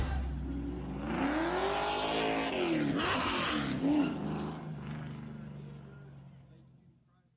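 Rallycross race cars at the Iowa Speedway RX track roar loudly, their engines revving up and down in sweeping pitch, with a voice mixed in before the noise fades out toward the end.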